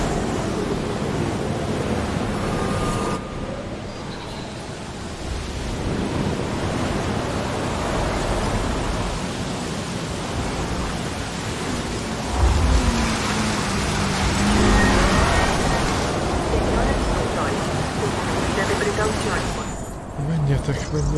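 A thunderstorm in Jurassic World Evolution brings heavy rain and wind, a loud, unbroken hiss and roar that swells slightly midway and carries on for the whole stretch.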